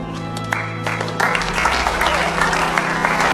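Applause at an award ceremony, clapping mixed with a steady background tone and some crowd noise, moderately loud and continuous over a few seconds.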